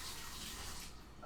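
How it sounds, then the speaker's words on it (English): Running tap water splashing over hands being washed at a sink, a steady close rushing hiss that stays level throughout the short stretch. "I'm just going to go wash my hands."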